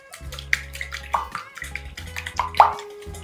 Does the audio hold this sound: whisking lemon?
yes